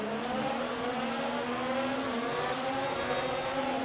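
F1 2019 video game race car engines revving high and steady at a race start, a continuous loud droning whine with rising pitch, several engines blended together.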